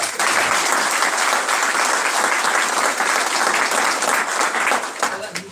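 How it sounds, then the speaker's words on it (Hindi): Loud, dense applause from a large crowd at a federation gathering honouring national office-bearers and a minister, a steady broadband roar lasting throughout and tapering slightly at the end. "जोरदार तालियां"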